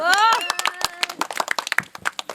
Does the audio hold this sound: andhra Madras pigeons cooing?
no